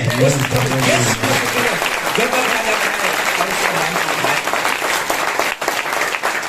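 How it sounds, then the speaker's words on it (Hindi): Sustained, loud applause from an audience at a Hindi religious discourse, with a voice speaking over it. "आपकी तालियों में भी दम होना चाहिए"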